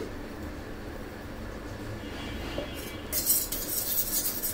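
A spoon stirs salt into a mango candy sherbet drink, a bright clinking scrape against the glass that starts partway through and continues over a low background hum.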